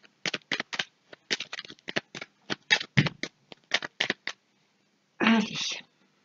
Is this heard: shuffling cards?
yes